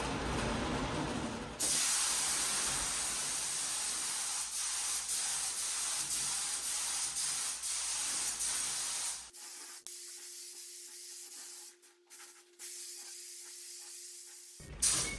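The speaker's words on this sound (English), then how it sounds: "The last step before applying the sealer is to wipe it down with a tack cloth." A spray gun hisses steadily while applying sealer to a Leer truck camper shell, a loud continuous spray that cuts off partway, leaving a quieter hum with intermittent bursts.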